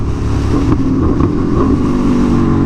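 An Aprilia Tuono V4 motorcycle with a new quick shifter accelerates hard, its engine roaring loud and close with quick shifts breaking the rising note, no voices present.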